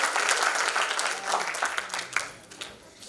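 A theatre audience applauds performers after a stage play, with dense, loud clapping that swells and then gradually thins out toward the end.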